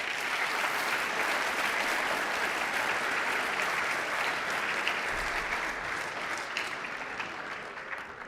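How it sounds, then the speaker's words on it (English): A crowd at a soccer club senior night applauds the class of 2024, a loud, dense, continuous wash of clapping that holds steady and tapers gently toward the close. "If we could just give one more round of applause."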